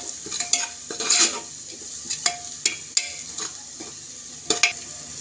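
Masala fries in oil on a low simmer for tomato rice, with a soft sizzle under repeated close scrapes and taps of a spoon stirring in the pan.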